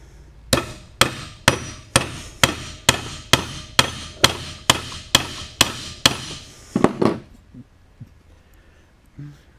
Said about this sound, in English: I'm going to use the hammer and drive this rivet just like I did on the seat tracks.